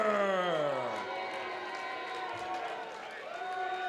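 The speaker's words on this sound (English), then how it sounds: "Big round of applause for Eckelberg" A crowd at a mixed martial arts fight event cheers and applauds for a fighter, a dense roar with shouting voices and scattered clapping, loud and sustained throughout.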